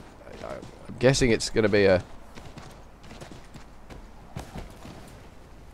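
Horse hooves clip-clop in the video game Assassin's Creed 3, a short burst of fairly loud rhythmic steps followed by quieter plodding, with someone talking over them.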